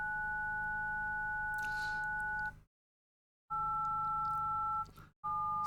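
Phone keypad DTMF tones, each a steady dual-pitch beep lasting a couple of seconds. One long tone is followed by silence, then another tone and a short one, all loud and close against a low hum, with no talking.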